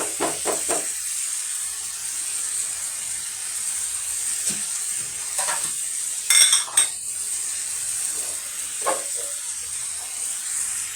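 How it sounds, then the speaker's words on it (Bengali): Four green chilies fry and get stirred in a pan. A continuous high sizzle plays under scattered clinks and scrapes of a utensil against the pan, with a brief clattering burst midway. "এই যে দিয়েছি চারটা কাঁচামরিচ দিয়েছি, আর এইভাবে ভাজতে থাকবো"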